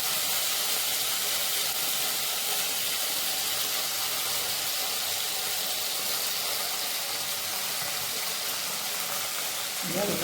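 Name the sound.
ginger and green chili paste frying in a pan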